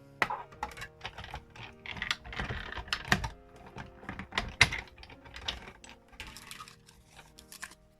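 Big Shot die-cutting machine cranking a scrap of Grapefruit Grove paper with a scallop die through its rollers: a busy run of irregular clicks, taps and mechanical clatter, fairly close, with no talk.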